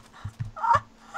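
Clucking chicken from the video game Minecraft, a few short, close clucks in quick succession with no talk over them.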